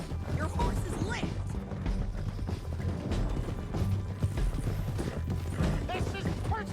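A horse gallops in Red Dead Redemption 2 with quick, dense hoofbeats mixed into busy game sound and music, while voices talk over it.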